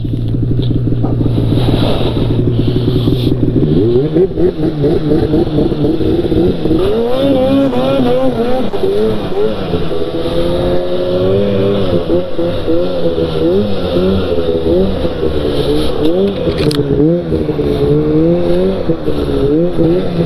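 Mountain snowmobile driving off on flat, snowy East Coast Canada ground: its engine revs up and settles into a loud, wavering drone that rises and falls with throttle, close up and continuing throughout.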